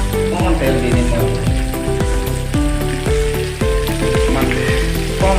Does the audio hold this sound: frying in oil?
yes